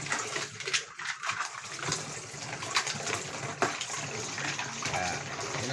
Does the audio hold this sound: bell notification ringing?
no